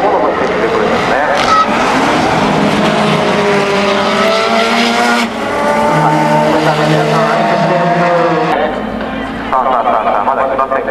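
Tuned Super GT race car drifting sideways out of the final corner at a demo run, engine wailing with rising and falling pitch and tires squealing, while an excited announcer commentates over it.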